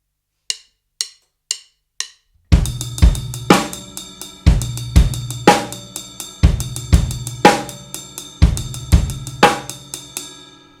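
A drum kit plays a groove: four soft count-in clicks, then kick, snare and steady hi-hat with quick triplet fills between backbeats, loud and close.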